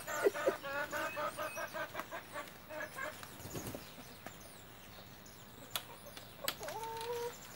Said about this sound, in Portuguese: Ó, almoço das galinhas.